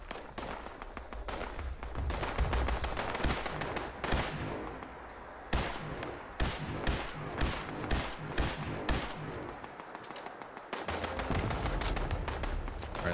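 Assault rifle fire in the video game Fallout 76, with long rattling bursts and separate loud single shots spaced out in the middle, then sustained firing again, all loud and close with no talk.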